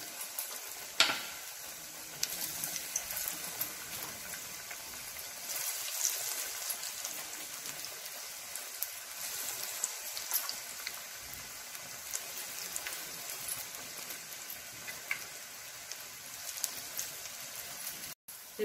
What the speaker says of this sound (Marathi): भजी तळायला घेऊया. मंद गॅसवरती तळायचे आहेत भजी.